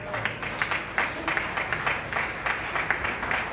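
Church congregation at an A.M.E. service in Saint-Marc applauding the Lord, with a steady, fairly loud rhythmic clapping that repeats in regular bursts and no voices over it.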